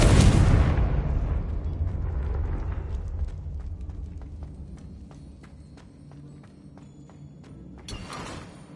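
A Confringo fire spell explodes in the video game Hogwarts Legacy: a loud, booming blast opens and fades into a lingering rumble, with light scattered impacts following and a brief burst near the end.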